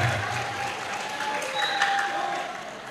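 Clapping from a school audience at SMP Negeri 1 Magetan during an Isra Miraj talk show, a short even wash of many hands at moderate loudness, sustained without pause and fading slightly at the end.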